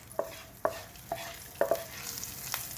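Kasuri methi stirred briefly in hot ghee in a pan, giving a soft sizzle under a series of sharp spatula scrapes and taps at a steady rhythm, close and moderately loud, with no talking.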